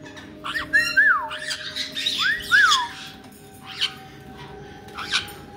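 Pet birds squawk and whistle indoors in several sharp, rising and falling calls early on, then a few shorter chirps, fairly close and moderately loud over a low steady hum.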